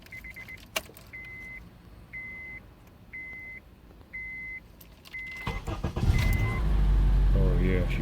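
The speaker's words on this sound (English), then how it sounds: "Oh yeah, she fires right up." A 2005 Honda Accord with a newly replaced starter sounds a series of chime beeps, then the engine cranks and catches near the end, settling into a steady idle.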